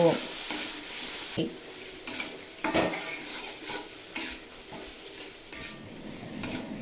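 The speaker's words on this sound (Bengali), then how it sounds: "ধনের গুঁড়ো আর সামান্য পরিমাণে কাশ্মীরি লঙ্কার গুঁড়ো আর স্বাদ মতো লবণ দিয়ে খুব ভালোভাবে ভেজে কষিয়ে নেব" Coriander powder, Kashmiri chili powder and salt frying with potatoes and carrots in a pan, with a steady sizzle under repeated scraping and clinking stirs of a metal utensil against the pot, close and fairly loud throughout.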